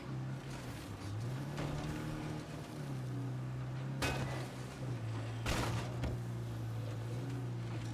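A car's engine drones steadily in the video game State of Decay 2, sustained and fairly quiet, broken by two short sharp knocks.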